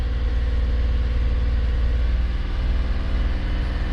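A car engine held at about 2,000 RPM under the hood, a steady, loud, even drone with a strong low hum and no change in pitch throughout, no voices over it.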